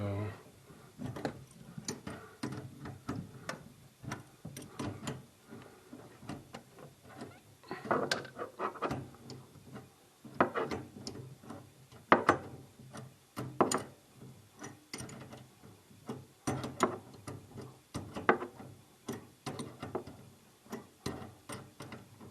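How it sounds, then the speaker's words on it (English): Nuts on a laundry room sink's plumbing are tightened by hand, giving irregular ratcheting clicks and metallic scrapes in short bursts, close up, with some faint background noise. "I know this is very exciting listening to me tightening the nuts"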